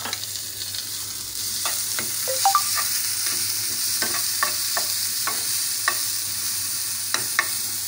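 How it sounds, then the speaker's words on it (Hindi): Tomatoes and green chillies go into onion and egg frying in a pan, a soft steady sizzle under repeated clicks and scrapes of a spatula stirring, close by and without voices. "अब इसमें हम जो है वो टमाटर और हरी मिर्च है वो ऐड कर रहे हैं।"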